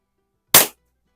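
A vintage Beeman P3 target pistol fires once at a toy army man outdoors on a cold winter day, a single sharp close crack that fades quickly into silence.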